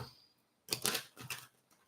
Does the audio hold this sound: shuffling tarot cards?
yes